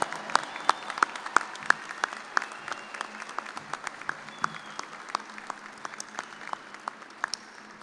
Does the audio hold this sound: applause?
yes